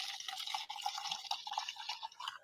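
Liquid is poured into a glass with a soft, faint splashing trickle that keeps running with small bubbling variations throughout, and no one speaks.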